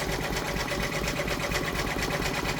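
An embroidery machine stitches a freestanding quilt block of pumpkins, giving a steady, loud, continuous rapid needle chatter throughout with no pauses.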